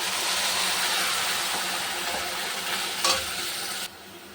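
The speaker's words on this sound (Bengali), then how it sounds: "দেখো বন্ধুরা, পেঁয়াজটা ভাজা হয়ে গেছে" Onion paste frying in ghee with cardamom, cinnamon and cloves for chicken chaap: a dense, loud, continuous sizzle close by with faint utensil clinks, stopping abruptly near the end.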